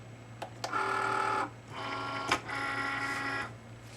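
A Cricut machine draws in a cutting mat loaded with transfer foil, giving a steady mechanical whirring hum in two runs, broken by a few short clicks, close and alone.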